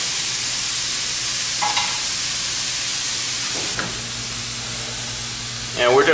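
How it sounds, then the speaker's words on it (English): Sausage frying in a pan gives a steady, fairly loud sizzle with a few faint clinks and a brief murmur of a voice at the end. "Turn this pan down a little bit and just let this sausage finish up."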